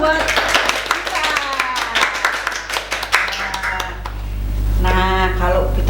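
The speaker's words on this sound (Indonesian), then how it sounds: "Wah, tepuk tangan dong buat kita." Hands clapping during a Sunday school class, a brisk run of close claps mixed with someone talking, then fading as her voice carries on alone.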